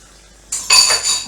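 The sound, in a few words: hot water running while washing a meat cutting board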